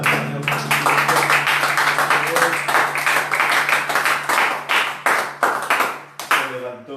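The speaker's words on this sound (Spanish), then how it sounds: "Dale un fuerte aplauso al Señor Jesucristo." Congregation clapping in a church service, loud rhythmic hand claps in a steady beat over a sustained musical drone, fairly close and continuous.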